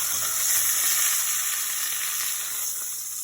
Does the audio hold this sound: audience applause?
no